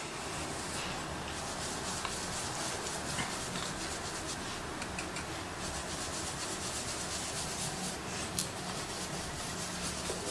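A makeup brush buffs matte cream base into the skin, giving a steady, close, soft rubbing hiss that continues evenly throughout with no talking.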